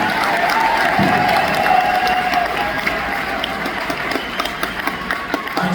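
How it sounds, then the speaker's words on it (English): A large crowd at the Sayreville War Memorial High School graduation breaks into sustained applause with cheering, a dense, loud, continuous wash of clapping that gradually thins toward the end. "So give yourselves a round of applause because you deserve it."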